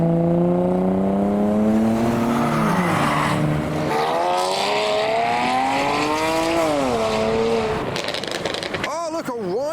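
Blue Toyota Supra with an automatic gearbox and traction control off, revving and accelerating hard at a modified car show; loud rising and falling engine pitch through gear changes, with a spectator talking over it.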